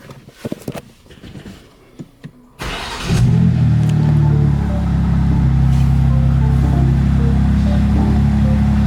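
A BMW M2 engine cranks over and fires up after a few scattered clicks and handling noises, then settles into a loud, steady idle that rumbles on close by with no talking.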